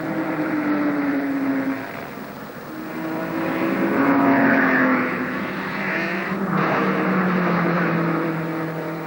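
1950s Formula One race car engines drone loudly at a motor race, rising and falling in pitch as cars pass, heard over steady crowd and track noise.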